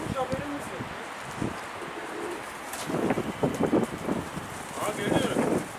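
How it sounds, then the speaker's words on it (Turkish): Pigeons coo softly in a low, repeated rhythm against steady outdoor noise, with people talking nearby partway through. "Bizim kuş da var."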